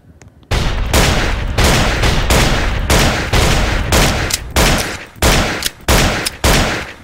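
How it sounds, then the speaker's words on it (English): Roblox game gunfire in rapid bursts, a loud close series of sharp repeated shots with brief gaps between volleys, heard alone. "I'm going to shoot the state trooper!"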